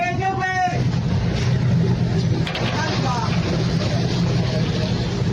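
A Malaysian fishing boat's engine drones steadily and loudly at sea under constant wash and wind noise, with a voice calling out briefly at the start.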